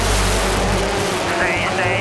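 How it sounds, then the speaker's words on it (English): Ten Global Rallycross race cars launch from the start in Los Angeles, a loud roaring blast of engines surging near and dense, with a voice talking over the din. "10 cars blaze away"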